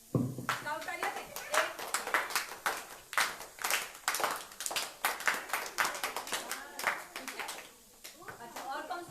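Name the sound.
children clapping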